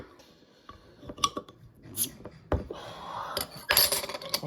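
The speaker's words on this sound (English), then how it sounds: "Let's take off this lovely London Pride cap and see what we got going on inside." A Fuller's London Pride amber ale bottle being opened with a cap lifter, scattered metallic clinks and scrapes building to a sharp pop and clatter of the cap, close and fairly quiet, with no voices.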